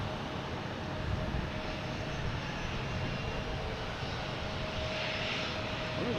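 Southwest airliner taxiing at Boston Logan Airport, a steady, moderately distant engine rumble and whine holding evenly throughout with no talk.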